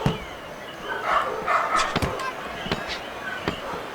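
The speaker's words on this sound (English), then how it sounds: "Damn dogs." Dogs bark in a few sharp, fairly faint yips behind a boxing video game's commentary and crowd ambience, with a commentator's voice running underneath.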